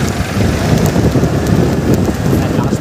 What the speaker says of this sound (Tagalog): Paambon-ambon na naman ng malakas.